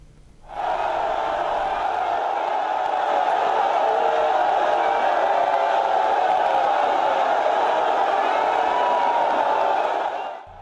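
A crowd of supporters cheering and shouting at James Ibori's country home in Ogara, a sustained, loud roar of many voices that rises quickly and holds steady before cutting off.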